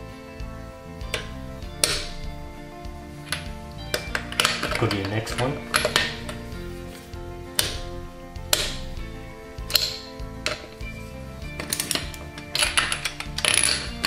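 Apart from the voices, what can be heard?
torque wrench clicking at set torque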